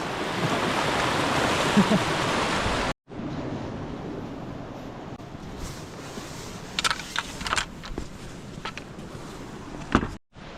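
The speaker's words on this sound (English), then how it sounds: "beautiful sound of water flowing" Water flowing through a river valley in the Peak District after recent flooding, a steady broadband rush that runs loud and continuous, then drops out briefly and returns a little softer with scattered splashy bursts.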